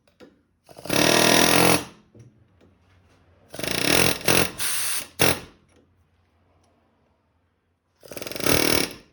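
An air chisel works a ball joint on a 2013 Chevrolet Suburban, sounding as loud, close bursts of rapid hammering separated by quiet pauses, with three main bursts across the stretch.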